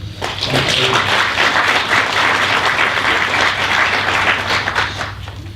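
Audience applause for a panel at a plenary session, a dense, steady wash of many clapping hands sustained loudly for several seconds with a faint hum beneath.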